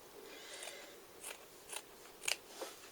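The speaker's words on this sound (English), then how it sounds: "so I'm going to cut" Scissors snip through lace and very thin cotton fabric in a few short, separate crisp cuts, close and fairly quiet, with no talking.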